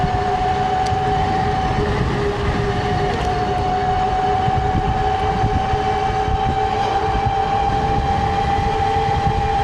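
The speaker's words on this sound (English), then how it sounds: "the only thing I dislike about it, is how loud the motor is at this point" A loud, steady motor whine from a 72-volt electric bike at 30 miles an hour, with a high-pitched electric tone and constant road rush, sustained without pause.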